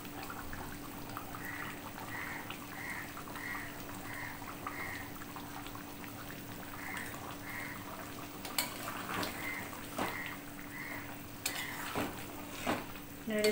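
Chicken curry, cooked with potatoes and finished with garam masala powder, is stirred in a pan: a low steady background with soft scraping strokes and a few sharper clinks of the spoon against the pan toward the end, no talking.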